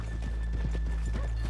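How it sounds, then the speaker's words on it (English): Horse hooves clip-clop softly at a slow walk on a town street in the video game Red Dead Redemption 2, a faint steady rhythm under a low ambient hum. "let's leave the horses here off the main drag"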